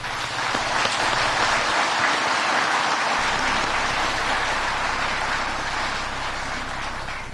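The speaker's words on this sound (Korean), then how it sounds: "우리 기업인 여러분께 격려의 박수를 보내고 싶습니다" Sustained, dense applause from an audience of officials and business people at a formal national bio-health vision ceremony, rolling on evenly at a strong level throughout with a low hum beneath.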